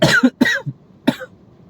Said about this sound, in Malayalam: എന്തുവാടാ ചുമ, മൊത്തം പനിക്കാലാണ്